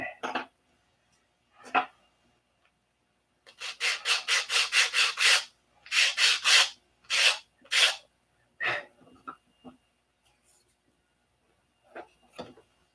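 Hand filing or sanding of a small pushrod part for a P-47 model: short bursts of rapid rasping strokes, a run of about eight quick swipes followed by a few more, with scattered quieter scrapes and pauses, close up.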